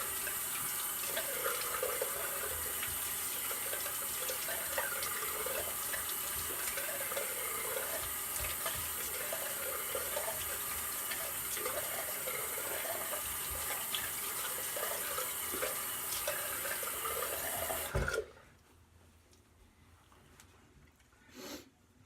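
A bathroom tap runs steadily for a post-shave rinse, water splashing into a sink at close range for about eighteen seconds before abruptly shutting off, leaving near silence.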